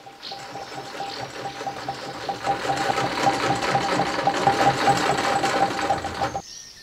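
A sewing machine runs steadily at close range, its rapid mechanical stitching forming a dense, continuous whir with a faint high tone, then stopping abruptly near the end.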